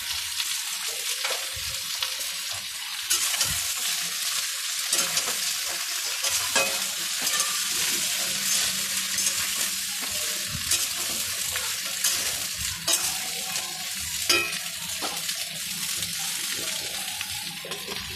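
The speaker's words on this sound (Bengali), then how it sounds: "এবার আমি সব সবজিগুলো দিয়ে একটু ভাজা ভাজা করে নেব।" Vegetables frying and sizzling in a pan while being stirred, a steady crackle throughout with occasional sharp scrapes and clinks of the spatula, close and fairly loud.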